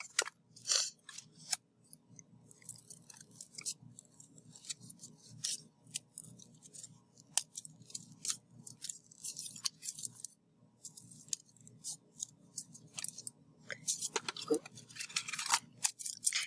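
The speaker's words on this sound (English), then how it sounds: "use the throat of your scissors as you're cutting through your paper" Scissors cutting through thick, many-times-folded paper: repeated crisp snips and crunches in uneven rhythm, fairly faint, with talking underneath.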